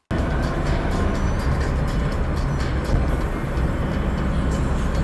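A VAZ 2107 Zhiguli on the move fills its cabin with a loud, steady low rumble and broadband road roar, unbroken throughout with no talk.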